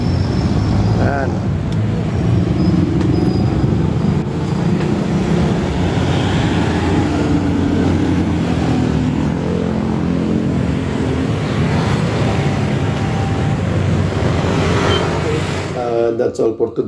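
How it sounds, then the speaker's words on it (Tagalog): Constant flow of cars and heavier vehicles passing a street corner in the Philippines on the way to Alabang, a loud, unbroken roar of engines and tyres with a brief change in texture near the end. "Nanood tayo ng mga dumadaang sasakyan"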